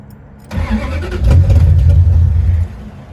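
A car engine with a fuel pressure problem cranks for about two seconds, a close, loud, churning whir that catches briefly before cutting off to quiet.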